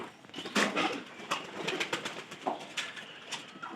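Pigeons feeding outdoors coo steadily in a close flock, soft throaty calls repeating and overlapping with faint scuffling between them.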